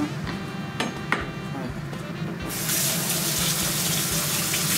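Tap water runs into a kitchen sink while a leek (long green onion) is rinsed, a steady close splashing that swells louder and fuller halfway through, with a few faint knocks early on.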